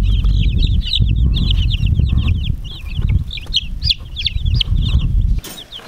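Young chicks set outside make repeated high chirps and clucks close by, over a steady low outdoor rumble with some wing flutter, continuing through most of the stretch before cutting off near the end.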